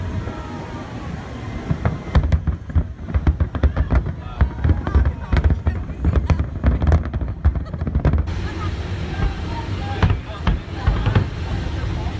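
Dense crackling bursts and booming pops of Chinese New Year fireworks in Hong Kong go off continuously, with a busy murmur of crowd voices and wind underneath.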